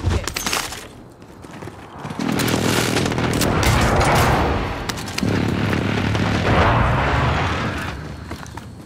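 Booming explosions from a precision airstrike in Call of Duty: Modern Warfare roll on in two long, loud blasts, each heavy rumble sustained for several seconds with crackling debris and scattered gunfire around them.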